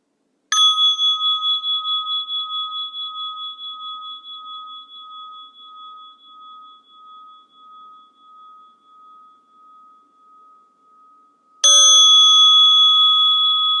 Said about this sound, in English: receiving the bell